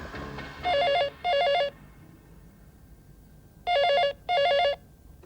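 A telephone rings in two pairs of bright electronic trilling bursts, one pair near the start and one after a pause of about two seconds, loud and clear over a quiet indoor background.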